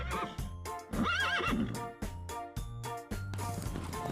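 A horse neighs in a rising and falling whinny around the middle, set against a looping farm-animal music track with faint hoof clip-clops.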